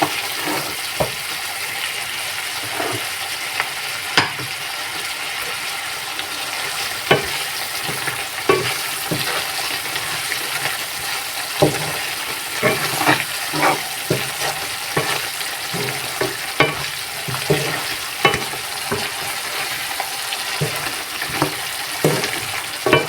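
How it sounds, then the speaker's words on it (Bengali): Chickpeas frying in a pan for a hotel-style chola bhuna, with a steady loud sizzle and regular scraping, clinking stirs of a spatula throughout. "কিছুক্ষণ কষিয়ে দিয়ে দেব"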